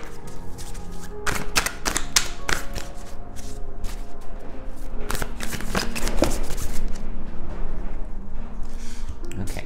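Tarot cards being shuffled by hand, a steady run of crisp riffling and slapping bursts that carries on through the whole stretch, close and fairly loud.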